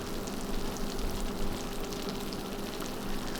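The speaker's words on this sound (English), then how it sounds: "You hear the sizzle?" Steady, close crackling sizzle of eggplant parmesan fresh from the oven, a continuous dense hiss with no talking.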